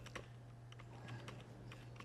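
Rapid, irregular clicks of a computer keyboard being typed on during an Excel seminar, fairly faint and close, over a steady low electrical hum.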